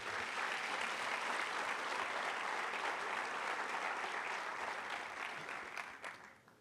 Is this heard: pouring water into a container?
no